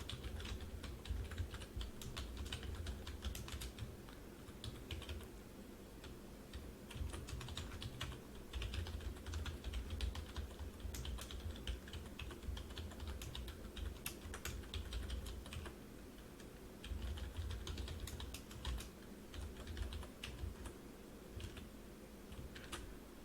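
Typing CSS code on a computer keyboard, a quiet steady stream of rapid key clicks in bursts, with short pauses between, close by and alone.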